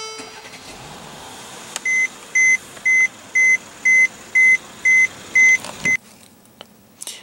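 A 2015 Mercedes-Benz E350 with a 3.5 liter V6 starts up: a row of eight evenly spaced electronic chimes, then a brief crank as the engine catches and settles into a quiet idle.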